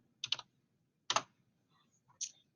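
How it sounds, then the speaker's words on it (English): Sparse, quiet keystrokes on a computer keyboard as a password goes in: a quick double tap, a pause, another pair of keys, then a faint final press, close and alone. "I'm going to type in my password."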